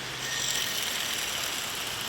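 A dry, steady mechanical grinding and whirring from a dried-out pulley in a Toyota Tundra engine runs continuously, with a raspy ratcheting texture and no talking.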